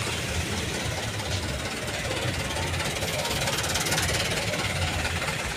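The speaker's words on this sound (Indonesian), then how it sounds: "Mobil-mobil cakepnya pada masuk." Car engines run steadily as vehicles drive into a busy fruit market during the fasting month, a constant low rumble with broadband noise throughout, fairly close and without clear talk.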